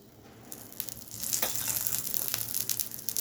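Paratha frying in a little oil in a pan, a soft steady sizzle that swells after the first second with occasional louder crackles, close and alone.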